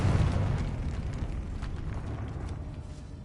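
A Confringo spell explosion in a Harry Potter video game, a loud low rumbling blast that starts strong and slowly decays into a crackling roar.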